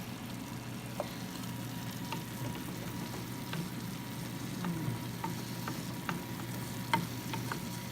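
Onions fry in a bubbling pan of chicken adobo with a low, steady sizzle, while occasional light ticks of a utensil against the pan sound through it.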